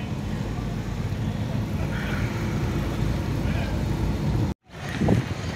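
Car driving slowly through a street in an industrial area, steady low road and engine rumble with wind buffeting, broken by a brief dropout near the end, with a voice speaking faintly over it.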